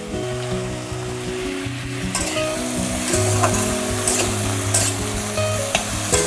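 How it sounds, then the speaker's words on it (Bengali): Pieces of taro frying in a pan of oil: a loud, steady, close sizzle with stirring scrapes and clatters from about two seconds in, and no voices. "এই গাটি কচুটা একটু ভালো করে ভেজে নিতে হবে"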